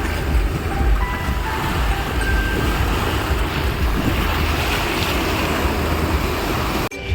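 Ocean surf at Vagator beach in Goa washes in over bare feet, a loud continuous roar of breaking and rushing water mixed with wind buffeting the microphone, close and steady throughout.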